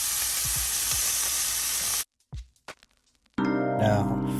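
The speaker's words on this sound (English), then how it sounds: "That's a good sear going on the steak." Steaks searing in a hot pan give a loud, steady sizzle for about two seconds, then near silence with small knocks, then a brief burst of frying sizzle returns.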